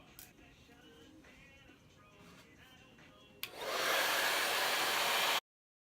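A Turbo Dry hair dryer switches on partway through and blows with a loud, steady, close whoosh during a salon blowout, then cuts off abruptly. Quiet handling sounds come before it.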